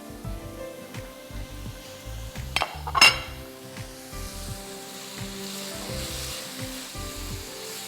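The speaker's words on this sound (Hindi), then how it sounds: "इसको सियर कर दीजिए दोनों तरफ से पीसेस, छोटे छोटे" Small chicken breast pieces searing in a hot pan, a steady close sizzle with scattered clinks of utensils against the pan and one sharper metallic clatter midway.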